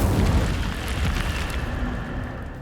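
A fiery explosive boom from the Incendio spell in Hogwarts Legacy erupts loudly up front, then rolls into a crackling, rumbling decay that fades over a couple of seconds.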